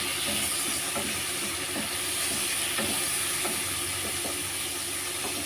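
Prawns frying in a pan for a pointed gourd and prawn dish give a constant loud hissing sizzle, with soft light taps of stirring scattered throughout.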